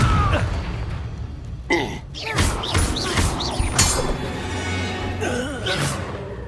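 Confringo blasting spell going off in Hogwarts Legacy: a spell burst with heavy thuds and crashing impacts, followed by sustained rumbling and debris over layered game effects, loud and close.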